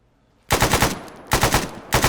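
Gunfire in the military game Arma 3, two loud bursts of rapid automatic shots, close and sharp, separated by a brief lull after a quiet start.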